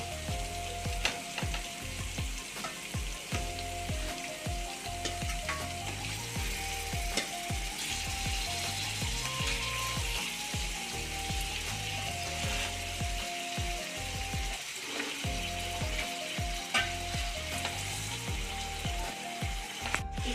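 Pieces of fish frying and sizzling in masala in a pan for an Andhra-style fish curry, a steady close hiss with occasional stirring scrapes throughout.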